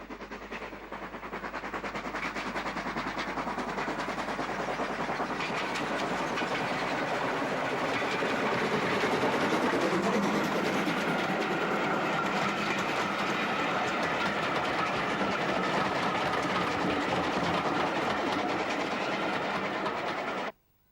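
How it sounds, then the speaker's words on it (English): A steam locomotive train coasts into a station at close range, a loud continuous rumble with clattering wheels and hiss that fades out abruptly at the end. "coasts into the station with a steam special en route to Leeds"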